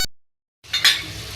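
Spiced beef green keema being stirred in a pan with garam masala, a brief silence then a spoon scraping and clinking against the metal over a soft sizzle of frying meat.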